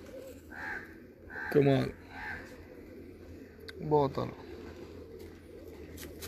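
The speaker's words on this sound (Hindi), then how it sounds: "लो जी ये कबूतर देखें" Pigeons coo in two short bursts of soft, throaty calls at low volume, with people chatting over and between them.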